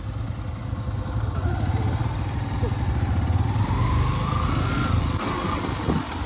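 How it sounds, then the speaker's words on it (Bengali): A motorcycle rides along a sandy dirt road beside a river, its engine giving a steady, close-up drone that rises and falls slightly throughout, with no talking. "এখন আমরা নদীর পাশে বেলেমাটির রাস্তায় বাইক চালাচ্ছি।"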